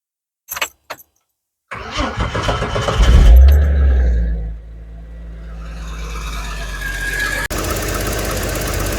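A 1980s Ford fuel-injected car engine cold-starts: a few clicks, then it cranks and catches, revving up loudly before settling into a rough, steady idle.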